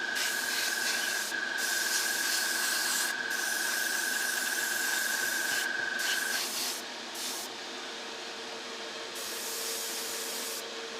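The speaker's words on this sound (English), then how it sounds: "I can hear my cheap compressor working overtime." A cheap air compressor runs continuously while an airbrush sprays a Tamiya 1:35 scale Russian T-55A model tank, giving a steady close hiss with brief pauses in the spray and a constant tonal hum through the first half.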